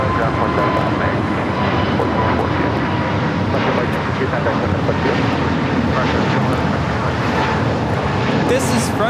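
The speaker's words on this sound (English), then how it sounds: "This is Frontier 1062 taking off to Phoenix on the A320neo." A Frontier Airlines Airbus A320neo jet taking off at LAX gives a loud, steady roar of engine noise that stays constant from start to finish, broken only by faint wind buffeting and a voice speaking over it.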